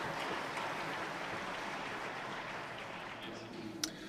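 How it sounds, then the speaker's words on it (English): An audience claps steadily for bronze award winners at a Green Cities awards ceremony, a dense, even wash of applause held throughout with a faint sharp clack near the end. "You can applaud them."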